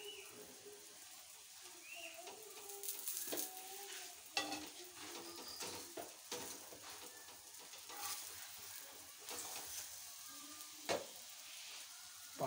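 A paratha fries in a pan on a home gas stove at breakfast, with a steady soft sizzle throughout and occasional clinks and scrapes of utensils, while birds chirp faintly in the background.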